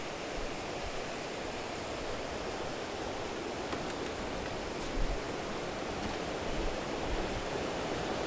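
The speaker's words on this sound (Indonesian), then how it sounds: "kedengar suara air sungai" River water flowing below a village at two in the morning, a steady broadband rush that holds evenly throughout with no voices over it.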